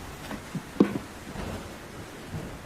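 Heavy rain in a cartoon rainforest, a steady hiss of rainfall with a few soft thump-like drops and a low rumble, moderately loud with no talking.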